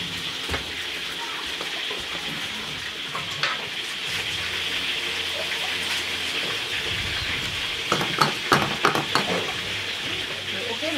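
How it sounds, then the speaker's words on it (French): Fish fries in a pan on Rodrigues Island, giving a continuous soft sizzle with scattered crackles and pops that grow busier toward the end. "poisson commence à dorer"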